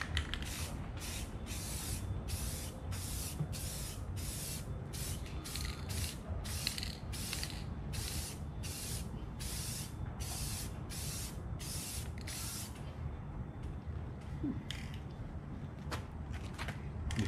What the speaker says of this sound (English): Let's do some more spraying